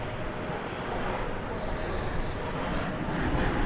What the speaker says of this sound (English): we're about to see American Flight 700 arriving from Houston Intercontinental George Bush Worldwide Airport in Houston